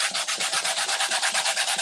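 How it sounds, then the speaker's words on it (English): Sandpaper rubbed by hand across an old wooden piece, quick rhythmic back-and-forth scratching strokes, about a dozen in under two seconds, close and steady with no voices. "I'm going to take a sanding paper"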